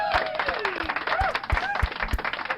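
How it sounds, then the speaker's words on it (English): One person clapping hands in praise of boxers after a Gervonta Davis vs Mario Barrios fight: several sharp, close claps at an uneven pace, mixed with someone talking over them. "I got to clap for them one more time"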